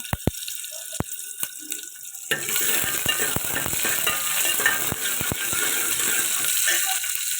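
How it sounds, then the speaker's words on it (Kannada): Half an onion drops into hot tempering oil in a small pot for sambar, first a few sharp clicks and taps, then a loud, steady sizzle of frying. "ಈಗ ಸಾಂಬಾರಿಗೆ ಒಗ್ಗರಣೆ ಹಾಕ್ಕೊಬೇಕು."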